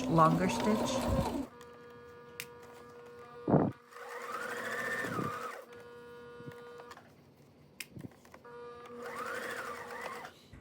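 A sewing machine stitching fur from a mink coat runs in bursts, whirring and straining, with short pauses and a few clicks between runs.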